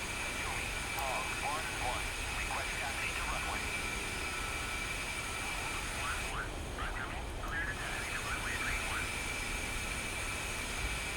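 A-10C Warthog jet engines in the DCS flight simulator give a constant loud whine and roar at an airfield, with faint crackling bursts layered over the steady drone.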